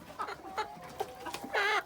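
A mixed-breed farm hen clucks close by, giving a few short, soft clucks followed by a longer, louder squawking call.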